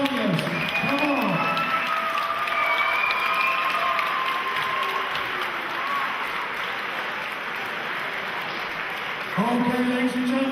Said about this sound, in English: let's have a massive round of applause for both warriors